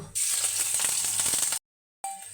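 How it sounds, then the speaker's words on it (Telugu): Finely grated ginger pieces fry in a little ghee in a pan, giving a bright, steady sizzle with light crackle that cuts out abruptly for a moment of silence, then resumes more quietly. "ఒక బాండీ పెట్టుకొని కొద్దిగా నెయ్యి వేసుకొని సన్నగా తురుముకున్న అల్లం ముక్కలు"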